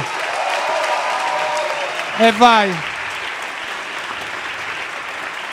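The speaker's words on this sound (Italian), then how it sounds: "Applauso" A studio audience at a comedy talk show applauds steadily and loudly throughout, with a short spoken exclamation rising briefly above the clapping midway.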